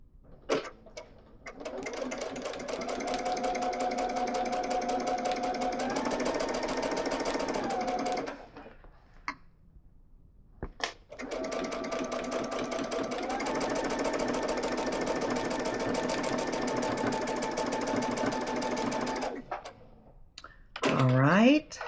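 A sewing machine stitches pinwheel quilt pieces in two long runs, its fast, even mechanical whir rising slightly in pitch midway, with a short pause between bursts and brief handling noise at the end.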